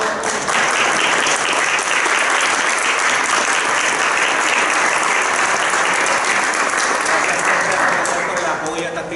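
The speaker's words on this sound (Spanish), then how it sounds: "Muchas gracias, profesor. Un aplauso." Audience applause after an academic lecture on copyright law fundamentals, a dense, steady roar of many hands clapping that fills the whole stretch and tapers slightly at the end.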